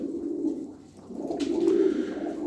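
Turkish game pigeons coo steadily and close by, a soft, throaty rolling call that swells and fades over a couple of seconds with no voices.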